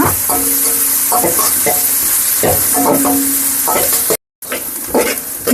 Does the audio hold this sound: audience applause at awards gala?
no